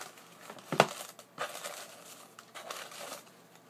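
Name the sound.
opening a paper-wrapped box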